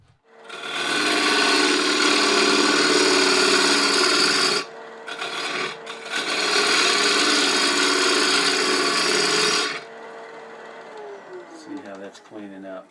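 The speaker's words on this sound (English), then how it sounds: "here I'm kind of flattening the base a little bit using a detail gouge" A detail gouge cuts a dovetail tenon on a wood lathe, giving a loud, steady rasping scrape that stops briefly and resumes for several seconds before trailing off into quieter tool noise, with someone speaking.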